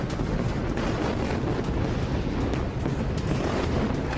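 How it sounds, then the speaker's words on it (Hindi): Explosions after bombing at a square in Tehran, heard as a sustained loud, rumbling roar with dense broadband noise and no clear separate blasts, like distant heavy blasts mixed with wind. "तेहरान के शहर ए बीजा चौक पर धमाके हुए हैं। धमाकों की आवाज सुनी गई यहां पर।"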